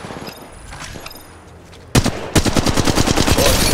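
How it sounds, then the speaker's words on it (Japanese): Rapid bursts of gunfire from the mobile battle royale game Apex Legends Mobile, loud and close, opening abruptly after quieter in-game ambience and continuing as a dense rattle of repeated shots. "射撃開始。"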